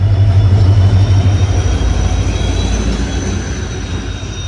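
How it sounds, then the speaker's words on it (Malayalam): Tinsukia Express, an old blue ICF-coach train, rolls into platform 4 with a loud, steady low rumble of engine and wheels that eases slightly as it passes. No talk. "ട്രെയിൻ നമ്പർ 159-12 തിൻസുക്കി എക്സ്പ്രസ് ഇതാ പ്ലാറ്റ്ഫോം നമ്പർ 4 കടന്നു വരികയാണ്."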